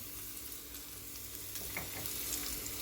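Garlic going into a pan of hot sauce for a cucumber meze with toasted sesame, giving a steady close sizzle and frying hiss that holds for about three seconds without any talk.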